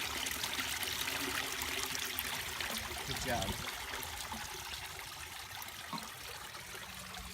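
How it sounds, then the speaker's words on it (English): Steady trickling and splashing water from a hose runs continuously down a koi pond waterfall, spilling over rocks, with a brief spoken remark partway through. "Just because it's a fresh pond water right from the hose. Right down the waterfall"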